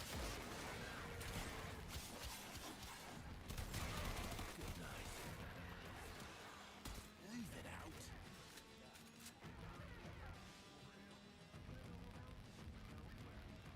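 Dense bursts of gunfire in a video game, with rapid pistol shots and crashing impacts, continuous and fairly faint across the whole stretch.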